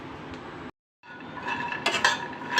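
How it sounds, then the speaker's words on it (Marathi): Peanuts being stirred as they roast in a pan over a very low flame, with close scraping and clinking against the pan, a brief pause, then steadier busier stirring that brightens and clatters toward the end. "आता हे शेंगदाणे एकदम मंद आचेवर आपण हे पूर्ण भाजून घेणार आहेत"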